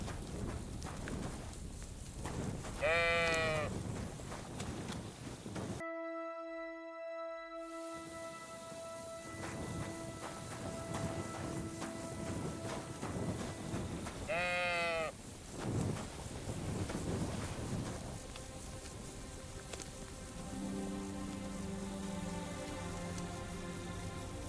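Sheep bleating in the medieval game Kingdom Come: Deliverance 2, two distinct bleats several seconds apart over soft outdoor ambience and faint hoof-like clopping, with a brief silent gap between them.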